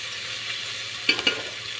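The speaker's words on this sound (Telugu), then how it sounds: "చేసి పెట్టుకున్న 2 టమాటా ముక్కలు కూడా దీనిలో వేసి ఇవి కూడా బాగా కలుపుకుందాం" Tomato pieces hit a hot pan of frying vegetables, giving a soft steady sizzle with a couple of brief stirring scrapes near the middle, close and fairly quiet.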